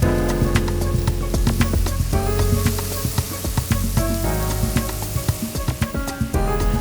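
Fish sizzles in a pan with fennel, anise and vegetables as it begins cooking for fish soup, a close steady frying hiss broken by sharp pops and crackles.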